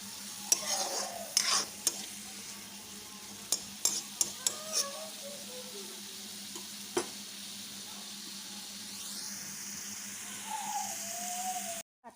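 Bottle gourd peels frying in oil are stirred in a pan with a utensil, giving several sharp scraping clanks against a low steady sizzle, followed by a quieter stretch of sizzling and a distant voice near the end.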